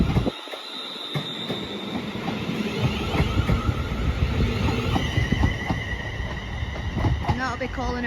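A Class 380 passenger train rumbles and clatters through Paisley Canal station, loud and close, with wheel squeal and rising motor tones near the end; someone talks over it.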